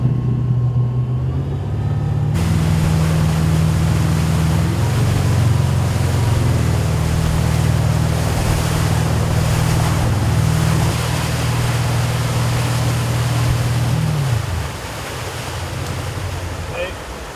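A used motorboat runs across open water with its starboard trim tab lowered, giving a loud, steady engine drone mixed with wave wash and wind buffeting. The drone fades near the end.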